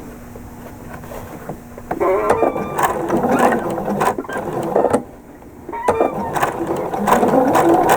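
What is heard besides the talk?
APQS quilting sewing machine stitching prairie points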